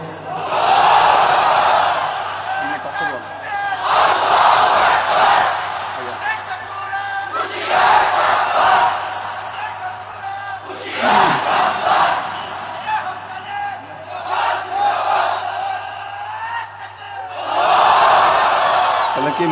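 A large crowd at an Islamic sermon chants the takbir slogan back to the preacher in several loud, swelling collective shouts separated by brief lulls, over a steady hum.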